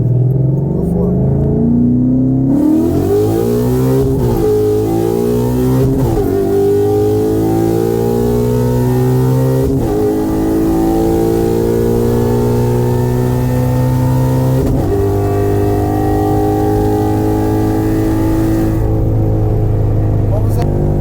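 Ford Mustang S197 5.0 V8 accelerating hard through a first gear pull, a loud rising engine note climbing steadily over about twenty seconds with brief dips at shifts or bumps, heard from inside the cabin.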